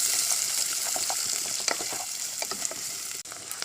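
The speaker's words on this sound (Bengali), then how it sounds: "এখন পেঁয়াজ কুচিটাকে দিয়ে দেব তেলের মধ্যে," Chopped onions fry in hot oil with a constant close-up sizzle, and repeated scraping stirs from a spatula tap and rasp through it before a brief dip near the end.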